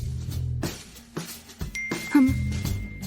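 A phone chimes with a short message notification ding that rings out clearly over a continuous musical background, with no talking.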